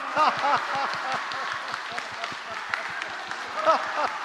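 Church congregation clapping hands together in rhythm during a laughter exercise, a steady run of sharp claps through the whole stretch, mixed with people laughing loudly over it.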